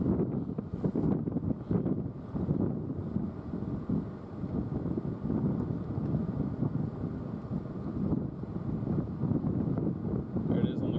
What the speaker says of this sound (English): If anybody wants to know what a tornado sounds like, you can hear it right now.